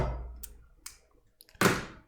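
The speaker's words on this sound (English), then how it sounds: "That's what the phone sounds like." A phone gives off a few short, sharp clicks and taps, quiet and close, spaced irregularly with a slightly louder click near the end, with no voices.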